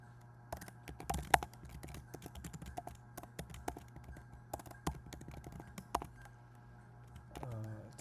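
Code being typed on a computer keyboard during a programming lecture, a steady run of light key clicks with an occasional brief voice over a low hum.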